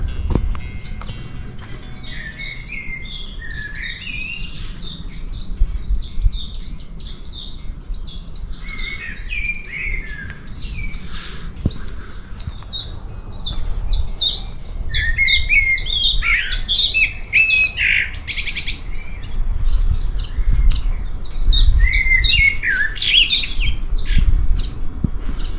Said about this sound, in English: the birds are going crackers here.